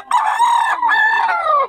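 A young rooster (stag) of Lemon Sweater gamefowl stock gives one loud, close crow of about a second and a half, rising and then held, with no other sound around it.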